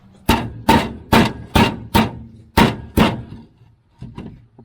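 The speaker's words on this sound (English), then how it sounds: "So now I hammer this part," Hammer blows knocking a link off a conveyor chain from a hay elevator, seven sharp metallic strikes in a steady rhythm, close and loud, followed by a couple of softer taps.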